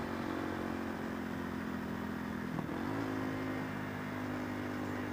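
Supermoto motorcycle engine droning steadily while riding at about 40 mph, a continuous loud hum with a brief shift in pitch near the middle, no talking.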